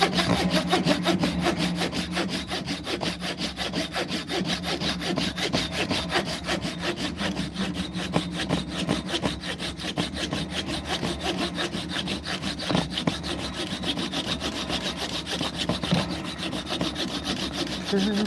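Close, continuous hand-sawing through purple-dust-producing wood for a small mallet, a rapid steady rasping stroke rhythm that carries on without pause.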